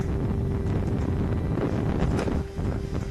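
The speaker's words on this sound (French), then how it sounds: "Exemple, le vent." Wind buffets an outdoor hunting trail camera's microphone, producing a continuous, loud rumbling roar with a faint steady whine throughout.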